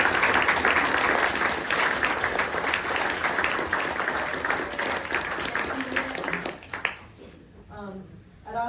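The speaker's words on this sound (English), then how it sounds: "I'd like to give y'all another round of applause" A dinner crowd gives zone captains and drivers a long round of loud, dense applause that fades out near the end, when a voice begins speaking.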